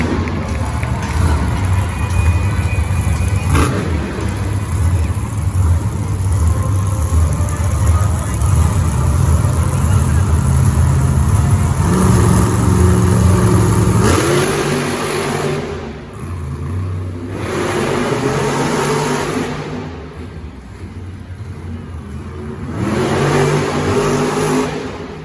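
A Monster Jam monster truck, Megalodon, roars loud and close at a Sacramento 2022 show, its heavy engine revving hard and steady before easing to lower, pulsing throttle bursts.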